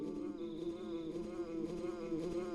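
A bee's buzz from the Super Nintendo game Earthbound hums steadily for the whole stretch, a close, continuous drone with a slight wavering texture and no speech.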